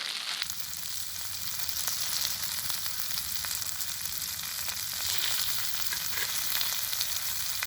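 Mackerel coated in masala frying in hot oil in a pan, giving a constant, close hiss and crackle that holds steady for several seconds with no talking.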